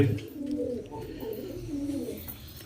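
A female pigeon coos softly and close by, a few low rolling coos in a short sequence with no talking.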